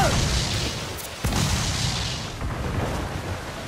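Booming cannon blasts punctuate a noisy naval battle soundscape in Assassin's Creed IV Black Flag, with a sharp crack and heavy thuds amid continuous rumble and clatter.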